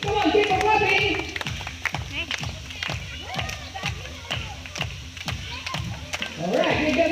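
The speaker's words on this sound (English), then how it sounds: "Come on, keep on clapping." An audience at a zoo bird show claps in a steady, rhythmic beat for a dancing bird, the regular claps sounding fairly close and loud, with voices talking and calling over them.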